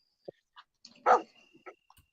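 A few short dog barks and yips, scattered and fairly close, with one louder bark in the middle and quiet gaps between them, from one of three dogs kept in a home in Spain.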